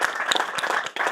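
Audience applause bursts out, a dense, loud clapping that carries on steadily for about a second with a short dip near the end.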